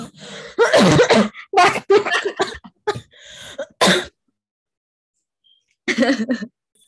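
A person coughs repeatedly in a quick burst of harsh, close-up hacks, followed by a pause of silence and then one more short coughing fit.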